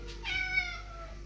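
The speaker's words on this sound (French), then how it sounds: "Et là, il miaule, mais un truc de fou." A single drawn-out cat meow, fairly close and clear, rising then tapering off against a quiet background.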